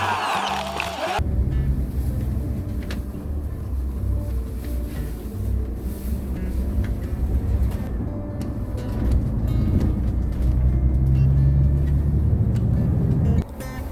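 Bus engine rumbles steadily while the coach pulls out of the Busan Sasang intercity terminal, looping around the parking area toward the exit, a continuous low drone that swells slightly near the end with no talking.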